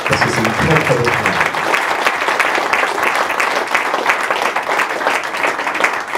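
An audience at a prize ceremony applauds hand-engraved glass prizes, with dense, loud, sustained clapping filling the room for several seconds.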